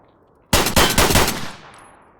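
Pistol gunfire in the video game Escape From Tarkov: a quick run of several sharp, loud shots over about one second, then a short fading tail.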